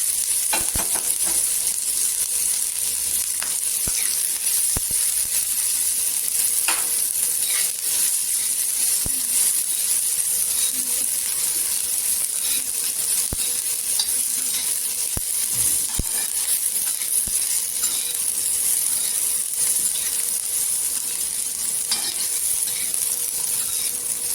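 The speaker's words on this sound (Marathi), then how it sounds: "इथे जिरं पण टाकायचं छान असं तरतरलं पाहिजे तेलामध्ये" Cumin and garlic sizzle in hot oil with a constant bright frying hiss, close and loud, with occasional small pops and stirring clinks and no talk.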